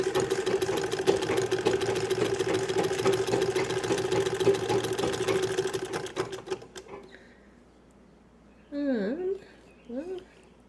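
A restored Singer 66 sewing machine runs at its longest stitch with a foot pedal, a steady fast mechanical whir and ticking for about seven seconds that then stops, followed by brief talk.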